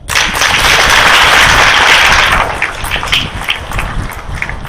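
A crowd claps loudly and densely for a couple of seconds, then the applause thins into scattered individual claps.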